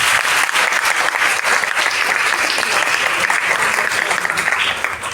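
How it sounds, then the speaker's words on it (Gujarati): An audience at a Gujarati-language school event claps loudly and continuously, a dense sustained applause that fills the room from start to finish, with no talk over it. "આ બધા જ માટે એકવાર જોરદાર તાળીઓ પાડે"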